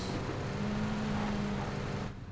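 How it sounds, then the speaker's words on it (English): Car engine in PlayerUnknown's Battlegrounds, a steady droning hum with a sustained low tone, fairly loud and continuous throughout before tailing off at the end, with no talk over it. "I hear a car."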